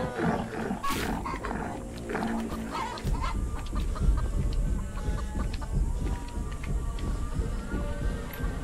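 Chickens in a Roblox game cluck and squawk repeatedly over a dense, noisy game soundscape with a low rumbling roar throughout.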